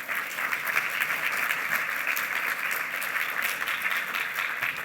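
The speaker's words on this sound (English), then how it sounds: "So give them a big round of applause." An audience at a conference breakout session applauds the speakers, a steady, even clatter of many hands that holds at constant loudness throughout, with no voices on top.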